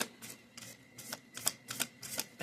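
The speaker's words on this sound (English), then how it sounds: "I cannot shuffle these through." Lenormand cards being shuffled by hand, heard as quick, crisp bursts of riffling and flicking in an uneven rhythm, close and fairly quiet with no talking.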